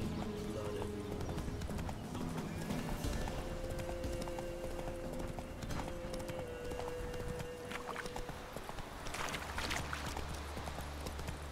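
Roach the horse trotting in The Witcher 3 video game, a steady clip-clop of hooves running throughout amid ambient game sound and a sustained tone.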